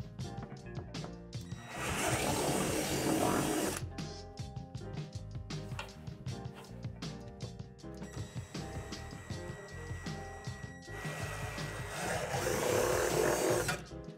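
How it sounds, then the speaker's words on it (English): A power drill bores out plastic divots under the deck of a Lifetime Double Adventure Tower playset, two loud sustained whirring bursts separated by quieter rattling and handling noise. "you need to drill out the 2 outermost divots under the deck"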